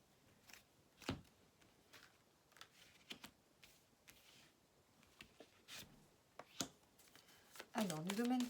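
Tarot cards being shuffled and drawn make scattered soft slaps, flicks and clicks at an irregular pace, close and fairly quiet, with a brief voice near the end.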